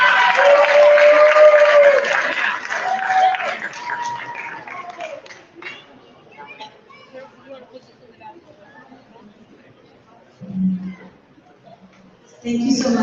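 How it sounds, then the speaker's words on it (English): Audience applause honoring a neighborhood honoree at a Juneteenth community celebration, loud and steady clapping over the first few seconds under voices, fading to scattered claps and chatter, with a brief burst near the end. "Big round of applause for Billy"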